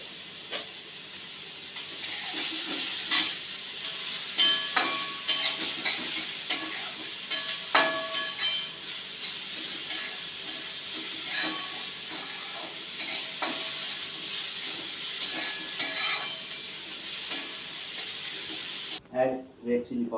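Chopped garlic and green chilies fry in hot oil in a pan with a steady bright sizzle, stirred now and then with soft scrapes, close by and fairly quiet.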